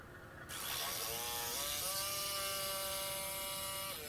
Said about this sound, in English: I'll cut those out with my jigsaw.